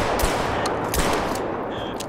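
Rifle shots in the hunting video game TheHunter: Call of the Wild, with a few sharp close reports standing out over a dense, noisy game soundscape, with no talk.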